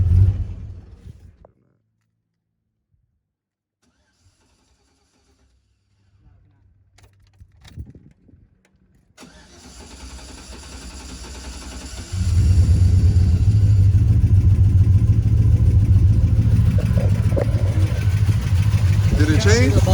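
A 2002 four-wheel-drive GMC Yukon with a K&N intake cranks and starts after a near-silent pause, then settles into a loud, steady, deep idle that fills the second half.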